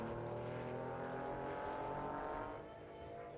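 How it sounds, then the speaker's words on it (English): A Porsche 911 SC fitted with a 3-litre Carrera engine runs at a grassroots historic sprint event, its flat-six holding a steady raspy drone that eases off slightly near the end, faint and somewhat distant. "it's got the big 3-litre Carrera motor."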